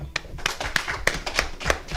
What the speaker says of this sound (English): Let's give the Lord a clap for that.